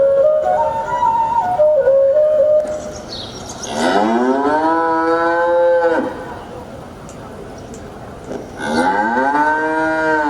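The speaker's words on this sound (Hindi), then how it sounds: "मंगला और पिंगला कदम के वृक्ष के नीचे आकर रंभाने लगती हैं।" Cows lowing on stage during a school theatre performance about Krishna calling the herd, several long, drawn-out moos with rising and falling pitch, loud and close, separated by a brief quieter gap.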